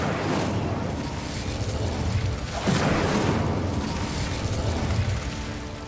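Fire spell cast in the Hogwarts Legacy video game, a sustained roaring whoosh of flame with a brief swell partway through, loud and continuous with a steady game backdrop.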